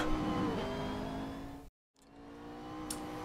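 Race car engine in Assetto Corsa on an out lap at Catalunya, a steady droning hum with a brief complete dropout midway before the tone resumes, no voices.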